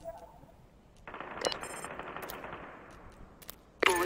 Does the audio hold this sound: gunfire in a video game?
yes